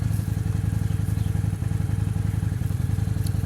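Vintage Honda Shadow VT 600 motorcycle engine idling nearby, a steady low rhythmic throb with even pulses and light mechanical clatter throughout, no voices.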